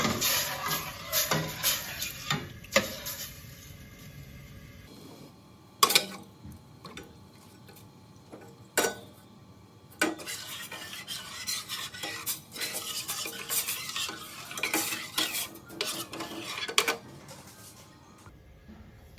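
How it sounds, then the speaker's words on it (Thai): Sugar and coconut milk being stirred in a pot for a Thai pumpkin dessert, with irregular spoon scrapes and clinks against the pot, sharp knocks, and a few quiet gaps. "เราก็จะคนจนน้ำตาลละลายหมดนะคะ"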